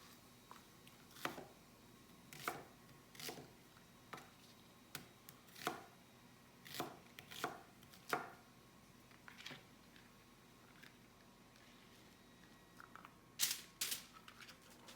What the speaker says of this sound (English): You can just give your vegetables a rough chop and put them on the sheet pan